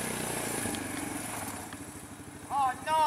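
Suzuki Ozark 250 four-wheeler ATV engine running with a steady low mechanical chug and clatter, fairly near and moderately loud, with brief voice-like yelps near the end.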